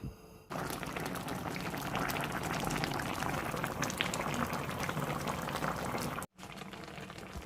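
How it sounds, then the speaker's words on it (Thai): Stuffed zucchini (kusa mahshi) simmers under a lid in a covered pot, a steady bubbling boil running continuously at moderate level, briefly cut near the end before resuming. "ใส่ให้ท่วม จากนั้นเราจะปิดฝาไว้นะคะ รอให้โคซ่าเขาสุกค่ะ"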